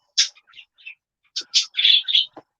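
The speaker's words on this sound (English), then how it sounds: "either the bird is set off by the music or it's just having a good time" A pet bird indoors chirping in short, high, bright bursts: a few scattered single chirps, a pause, then a quick run of louder trilling calls close by, with no talking.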